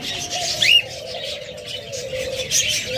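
Lovebirds kept in a bird-seller's aviary chirp and twitter in a busy chorus, with one sharper nearby squeak standing out over a constant background hum.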